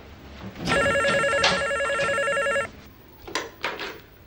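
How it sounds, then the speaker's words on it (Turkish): A phone rings with a bright, trilling electronic bell for about two seconds while a call is being placed, followed by brief clicks and handling noise of the receiver being picked up. "Kızım bana hemen Abdülbaki Bey'i bağlayıver"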